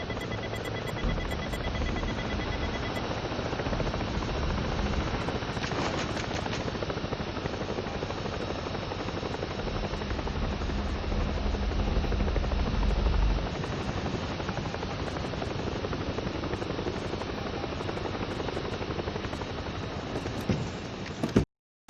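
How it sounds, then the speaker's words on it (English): A helicopter drones overhead in the Ghost Recon Breakpoint video game, a constant loud rotor roar with no let-up, alone without voices. "Chopper in the sky, get down."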